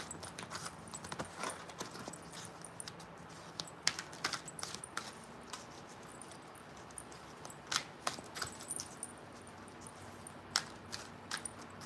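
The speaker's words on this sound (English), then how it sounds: "I just been shuffling them." Soft, irregular clicks and riffles of angel oracle cards being shuffled, close by and quiet, with scattered brief taps over a low hum.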